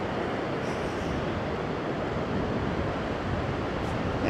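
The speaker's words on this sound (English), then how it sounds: "Welcome to Dettifoss, one of the most powerful waterfalls in Europe." Dettifoss waterfall in Iceland, one of Europe's most powerful, a broad steady roar of crashing water heard continuously and fairly loud, with no voices over it.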